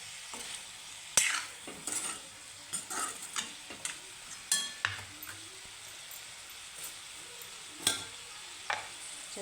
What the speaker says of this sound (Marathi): परत हलवून घेऊ मिक्स करू